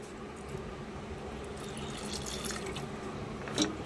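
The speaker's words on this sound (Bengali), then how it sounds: "অল্প করে এর মধ্যে আমি জল দেবো, 1/2 কাপ মতো আমি জল দেবো" Water is poured into a cooking pot, about half a cup, as a soft, steady trickle and splash that stays quiet and close, ending with a small splash.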